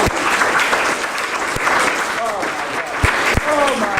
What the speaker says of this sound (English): Oh my God, what a nice round of applause.